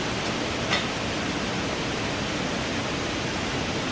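A waterfall at a jungle campsite makes a steady, even rushing roar that fills the whole clip without a break, with no one speaking.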